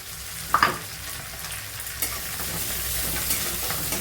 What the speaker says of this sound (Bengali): এবার সব ভালো করে একটু ভাজতে হবে